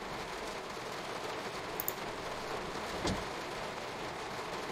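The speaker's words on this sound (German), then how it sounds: "Alter, der Regen ist so laut" Steady rain beats down in the Train Sim World 2 video game, heard from a train cab on the Cologne high-speed line as a constant hiss at moderate level, with a brief faint clunk midway.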